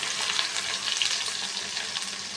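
Onions dropped into hot oil with garlic and green chillies, sizzling steadily for a poya sea-fish bhuna; a dense, even frying hiss carries throughout with no talking.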